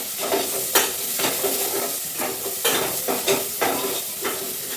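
Onions fry in oil in a pan under a constant bright sizzle, while a spoon stirs them in a regular rhythm of scraping strokes about every half second, close and fairly loud.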